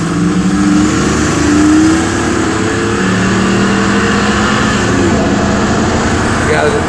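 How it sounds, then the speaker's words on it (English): A truck engine races alongside a moving vehicle at night, a loud rising and falling roar with revving tones, while people talk over the noise. "We got a truck trying to race us. That's why it's so loud."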